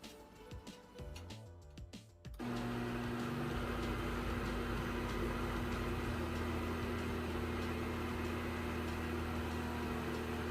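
A loud, steady mechanical whir of a blender on medium setting starts abruptly after a couple of seconds of quieter clatter and keeps running evenly, like a blender motor at full speed.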